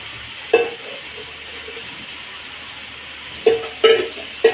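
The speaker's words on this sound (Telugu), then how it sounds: "ఇలాగే మన కర్రీని కొంచెం వేపేసుకుంటే చక్కగా నూనె బయటకు వచ్చిన దాకా ఈ పచ్చి మసాలా మొత్తం వేగిన దాకా వేసుకోవాలండి" Goat head curry fries with masala in a pot, a soft steady sizzle broken by a few sharp stirring scrapes and clatters, close up and without talk.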